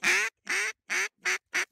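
Five loud, close duck quacks in an even rhythm with short gaps between them, heard during a duck hunt.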